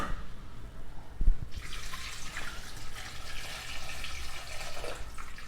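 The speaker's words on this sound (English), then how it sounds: "Then I'm adding water." Water pours into a cooking pot for chicken pepper soup, a soft continuous splashing stream that follows a brief clunk of the pot, quiet and close.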